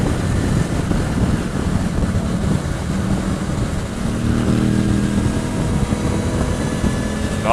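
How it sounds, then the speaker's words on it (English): A Ducati motorcycle with an aftermarket dual exhaust rumbles along the Sea to Sky Highway, a deep steady engine drone mixed with wind noise, rising slightly midway as the rider accelerates. "God, that bike sounds good."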